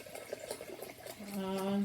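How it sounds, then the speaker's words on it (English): A bubbly drink is poured into a cup, a short rising trickle and fill that swells toward the end, with a voice heard faintly beneath it. "So I'm going to pour it into this cup here"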